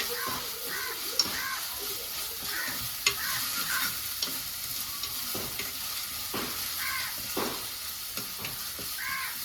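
Ingredients for a homestyle Kerala fish curry sizzle and get stirred in a pan until browning, a continuous frying hiss broken by spatula scrapes, with crows cawing outdoors.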